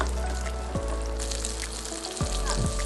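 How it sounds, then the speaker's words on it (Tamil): Small onions sauté in hot sesame oil in a pan for Pallipalayam chicken. A steady, close sizzle runs throughout, with a few soft clicks and stirs over a low hum. "எடுத்து வச்ச சின்ன வெங்காயத்தை நம்ம போட்டு வதக்க ஆரம்பிச்சிடலாம்."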